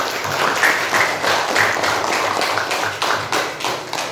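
Classroom of students applauding a group after its presentation in a teaching-practice lesson, a full burst of hand claps with a few sharper taps standing out, continuous and close throughout.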